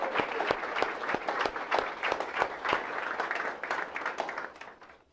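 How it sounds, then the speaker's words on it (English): Applause from the audience at an anniversary celebration, with many hands clapping in a steady, dense patter that fades out toward the end. "Let's give him a round of applause."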